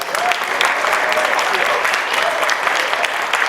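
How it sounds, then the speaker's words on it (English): Round of applause for a saxophonist at a community awards gathering, thick continuous clapping from the audience at an even level, with faint voices mixed in. "Let's give our saxophonist another round of applause"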